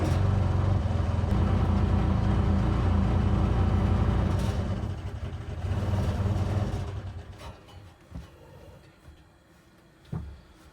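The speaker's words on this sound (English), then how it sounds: "No, it's just the motor." A farm motor runs steadily and loudly, apparently powering a compressor or generator during honey harvesting, then bogs down and fades to quieter rumbling with a few knocks near the end.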